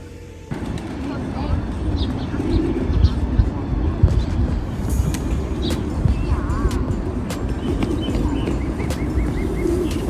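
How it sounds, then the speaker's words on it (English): White albino pigeons in a city square coo and flutter amid a busy outdoor bustle, with brief chirps and calls rising over steady crowd and traffic noise while people talk nearby. "They got white albino pigeons."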